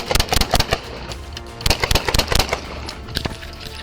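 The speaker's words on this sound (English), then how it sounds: "shots fired. Shots fired." A rapid, irregular burst of gunshots rings out during a police confrontation, several sharp cracks close together and then scattered single shots, loud and near with no talk over them.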